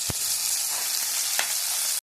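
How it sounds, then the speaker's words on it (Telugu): Onions and tomatoes fry in a pan for a small-fish curry, giving a steady, loud sizzle with a couple of brief stirring knocks. "ఆనియన్స్ కొంచెం దోరగా వేగాలండి"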